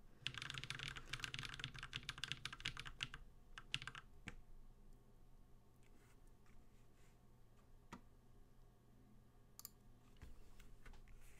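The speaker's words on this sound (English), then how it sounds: "I would probably film some typing test sounds" Fast typing test on a Space65 Cybervoyager mechanical keyboard, with dense, rapid clacking for the first few seconds, then sparser, quieter keystrokes and clicks at a moderate distance.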